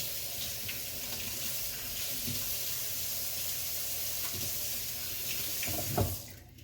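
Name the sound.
rinsing asparagus under running tap water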